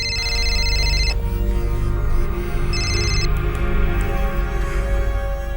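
A telephone rings with an incoming call in a crime drama scene, two bursts of a bright electronic ringtone sounding loud and near over a steady low background hum, with no talking.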